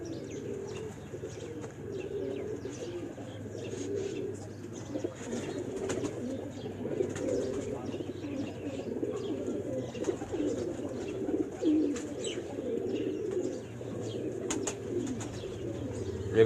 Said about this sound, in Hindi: आप सैयद अमादुद्दीन साहब के हाथ में जिस ब्रीड का कबूतर देख रहे हैं ये गोल्डन ब्रीड के